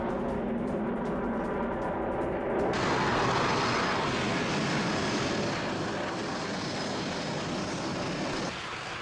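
A JAS-39 Gripen fighter jet roars past in news footage, a loud, broad engine rush that swells sharply partway through and holds steady before easing off, with no talk.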